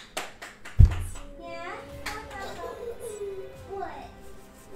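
A baby claps hands at home, giving a few soft slaps with one sharper clap near the start, while an adult and someone talk over and around it.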